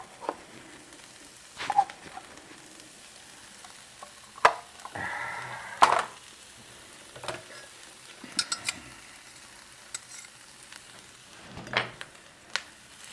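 Corned beef and potatoes on a griddle, a faint low sizzle broken by sporadic scraping and clattering spatula strokes, close by with no talking.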